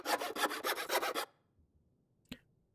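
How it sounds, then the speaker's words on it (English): A video-game character saws through wood while crafting sticks, giving eight fast rasping strokes in a steady rhythm, close and loud, then a pause and one short knock. "I love how it makes a sawing noise when he does not have a saw"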